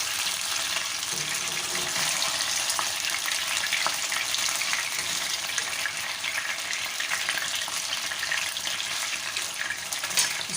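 Chicken reshmi boti frying in a pan over low heat, a constant, even crackling sizzle with fine spitting pops, close and unbroken throughout.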